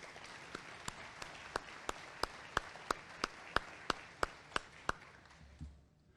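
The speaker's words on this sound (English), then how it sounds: "let's give them a big round of applause" Sparse, evenly spaced claps ring out one at a time at a Chamber of Commerce luncheon after a charity check presentation, about a dozen sharp single hits in a slow steady rhythm, fairly quiet and trailing off.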